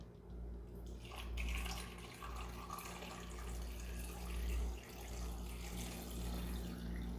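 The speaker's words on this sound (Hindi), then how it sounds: "और इसमें 1 लीटर पानी डालेंगे।" About one litre of water pours steadily into a cooking pot for pulao stock, a continuous splashing rush with a low rumble underneath, no talking.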